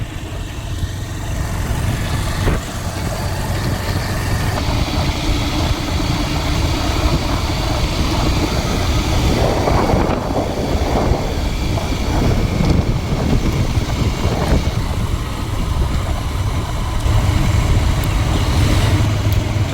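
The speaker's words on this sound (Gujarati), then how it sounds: "જોઈ શકો છો આપણે બાઇક લઈને જઈ રહ્યા છે." A motorbike ride along a road toward a village in Gujarat, with a loud, steady engine drone and heavy wind rush buffeting the microphone throughout, with no talking.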